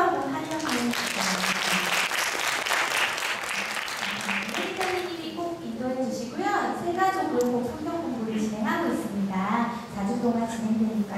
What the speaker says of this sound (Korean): 박수로 한번 환영합니다